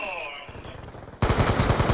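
Rapid automatic gunfire from an Apocalypse DLC multiplayer shooter, a dense loud burst of shots erupting abruptly after a quieter stretch with a voice beneath.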